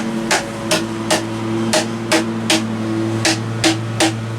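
Nearby hammer blows drive together the wooden side pieces of a homemade planter: about ten crisp, evenly spaced knocks over a low steady background hum, with no one speaking.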